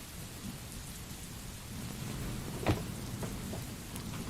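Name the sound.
rain and thunder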